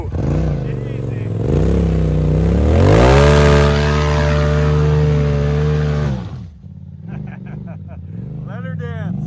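An off-road vehicle stuck in mud revs hard, its engine climbing and holding a loud growling pitch before dropping off, followed by lower idling with voices talking over it.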